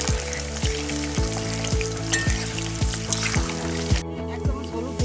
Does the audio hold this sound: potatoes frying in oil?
yes